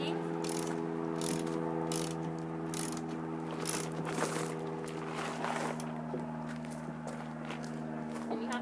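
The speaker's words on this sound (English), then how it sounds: "you're going to put your ratchet on the bolt. The other hand, line that up inside. And then just start cranking." A ratchet wrench clicks in quick repeated bursts as it tightens a bolt through the wood of a trunk being made into a coffee table. The sound is close and steady over a low constant hum, and no one speaks.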